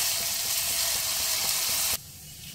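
Onions fry golden over a medium flame for mutton haleem, a loud, dense sizzle that drops abruptly to a quieter hiss partway through.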